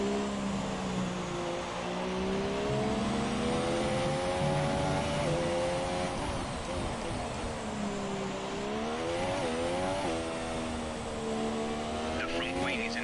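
A Formula 1 car engine in the F1 2017 racing game, played with a T300RS wheel, whines continuously with rising and falling revs through gear changes and a brief tire squeal near the end. It stays loud and steady the whole way.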